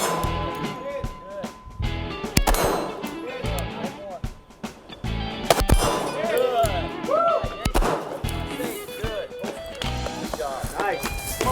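Rifle or pistol shots on a tactical shooting course ring against steel targets, sharp cracks spread irregularly through the run, mixed with footsteps, movement and people talking nearby.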